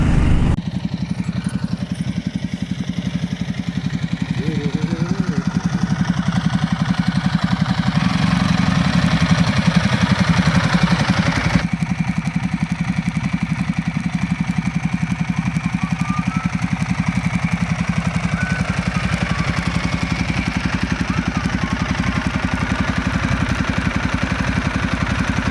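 The engine of a Ducati Multistrada 1200 drones steadily on a ride around Seattle, a loud continuous mechanical hum with wind rush and slight shifts in pitch as the bike pulls, with no talking.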